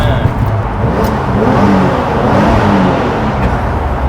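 A VW Kombi van with an air-cooled Porsche 911 engine drones steadily through a tunnel, a loud continuous rumble with a reverberant echo.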